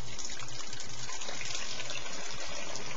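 Home-brewed beer from a Mr Beer kit pours steadily into a bottle during bottling, a continuous close gushing, trickling liquid sound with no talk.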